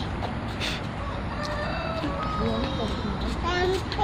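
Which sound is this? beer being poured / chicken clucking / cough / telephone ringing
chicken clucking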